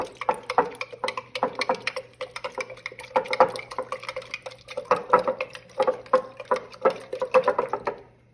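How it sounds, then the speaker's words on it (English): A spoon stirs pre-mixed agar in a container, making a rhythmic series of close clinks and scrapes with soft liquid swishing between strokes. "You're gonna get your favorite spoon. And you're gonna stir it up real good"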